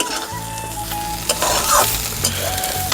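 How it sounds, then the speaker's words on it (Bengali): Onion paste and spices fry in a hot pan, a steady close sizzle with brief stirring scrapes over it. "মশলা দিয়ে আর পেঁয়াজ বাটা দিয়ে ভাজা করেছি"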